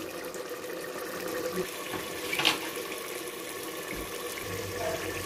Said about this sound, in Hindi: हम ये तकरीबन आधा पौन गिलास पानी का डालने लगे हैं